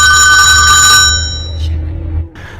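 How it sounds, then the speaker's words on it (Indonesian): A telephone rings with a bright, loud electronic trill that cuts off after about a second, leaving a low hum and a brief faint blip behind. "telepon ibunya pun berdering dan si Charlie langsung menutup teleponnya."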